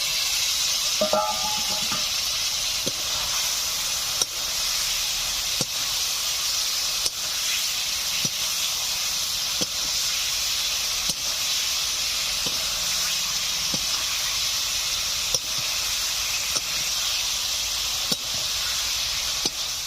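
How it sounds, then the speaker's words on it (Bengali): Ritha fish and spices sizzle in a pan with a constant loud hiss of frying. Faint periodic taps of stirring come through at regular intervals, and there is no talk. "মশলা ও মাছ বেশ কিছু সময় ধরে কষিয়ে নিলাম।"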